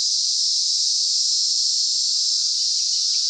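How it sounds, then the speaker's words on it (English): A cicada buzzes in one loud, unbroken, high-pitched drone, steady and close for the whole stretch with no pauses or other sounds. "Cicadas are among the loudest insects."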